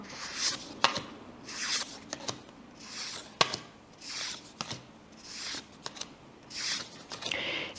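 Matte-varnished oracle or tarot cards with gilded edges are shuffled and handled in close, repeated swishing sweeps, about one every second, with soft rubbing friction and occasional sharp flicks, and no talk.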